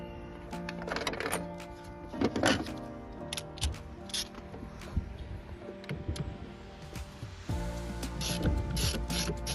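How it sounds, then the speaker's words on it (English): A 10mm wrench loosens the negative battery terminal on a 2009 Volvo V70 with the D4204T diesel engine, giving close, repeated ratchet clicks in short bursts with metallic ticks and shifting handling noise. "Loosen that with a 10mm."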